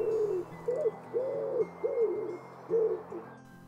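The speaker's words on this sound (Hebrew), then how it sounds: "הקשיבו לקולות היונים" Pigeons coo in a series of about six soft, rounded calls with a steady rhythm, close and fairly clear over a low background hum.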